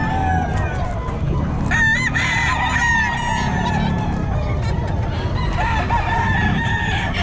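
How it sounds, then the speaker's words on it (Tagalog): Kelso gamecock rooster crowing at a busy pet market, a clear crow near the two-second mark rising over steady crowd chatter and other clucking birds. "Kelso, kak na po mga kabossing."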